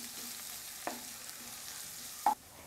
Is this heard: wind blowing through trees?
no